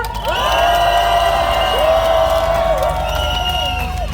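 Crowd cheering and whooping at an outdoor candlelight rally protesting the Fukushima wastewater release, held at Hyehwa Station; loud, steady, sustained cheers and shouts with sustained tones on top.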